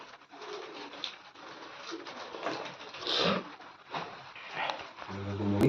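Pigeons kept in lofts during the rainy season coo softly in low repeated rolls, several birds close by, with faint background noise and a brief sharper sound near the end.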